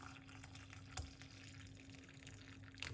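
Garlic and lemon tea is poured off into another container, a faint, steady trickle and splash of liquid heard alone.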